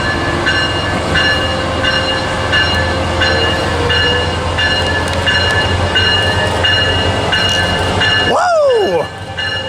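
Train 580 rolls through Fullerton with a loud, continuous rumble and regular wheel clicks, close by, then a swooping horn or whistle-like tone sounds near the end.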